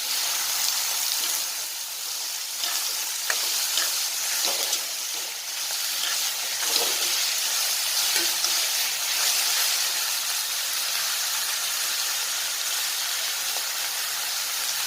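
Tomatoes and mixed vegetables fry in a pan for a frankie filling, a continuous, fairly loud hiss and sizzle with occasional faint clinks, close by and steady.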